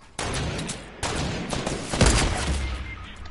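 Bursts of Fortnite gunfire crack loudly in quick succession, a sharp onset followed by sustained volleys and a heavier cluster of shots near the end, with no talking over them.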